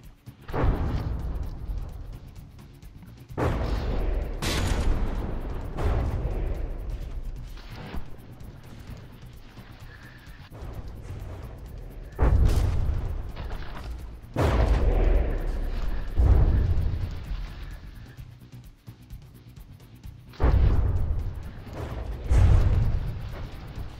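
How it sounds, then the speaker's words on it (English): Artillery shells slam into the forward end of a warship in the naval combat game From the Depths, heavy booming impacts arriving in irregular bursts over a low, constant rumble, loud and close, with no speech. "Lots of shells landing on the forward end of the ship."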